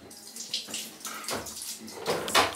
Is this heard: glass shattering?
no